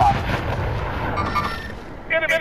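Booming gunfire from a Call of Duty match, dense and continuous across the short span with heavy low rumble, a brief voice-like tone near the end.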